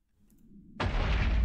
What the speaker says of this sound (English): Those bangs you'll hear would be little meteors dropping on the planet.